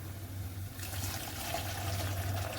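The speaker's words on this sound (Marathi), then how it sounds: "मी गरम केलेलं पाणी टाकते।" Heated water pours steadily into a simmering yesur masala curry, a soft continuous splashing rush that grows slightly fuller partway through over a low background hum.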